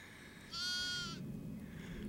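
A single sheep in a Peak District field bleats once, a short wavering cry that is fairly near, over quiet outdoor background noise.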